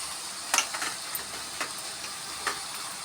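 Sliced onion, tomato, beans, carrot and capsicum sautéing in a pan for rava kichadi give a soft, steady sizzle. A few light stirring clicks and scrapes rise from the hiss.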